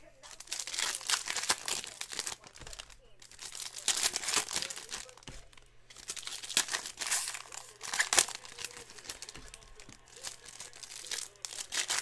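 Trading card packaging for 2019 Topps Finest Baseball being torn open during a case break, with steady crinkling and ripping in bursts across the whole stretch, close and fairly loud, and a faint steady hum underneath.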